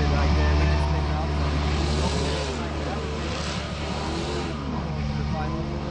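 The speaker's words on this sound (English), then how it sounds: "You can hear we've got a few engines and things starting up." Rallycross car engines running at the pre-grid of the World Rallycross of South Africa, a loud continuous low engine drone with shifting revs throughout, steady and close.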